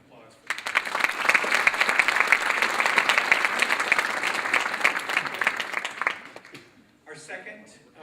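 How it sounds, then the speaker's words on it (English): Applause from the audience at a fashion show awards ceremony, a dense burst of clapping that runs about six seconds, then fades out, followed by a brief stretch of quieter sound. "So how about a round of applause for that?"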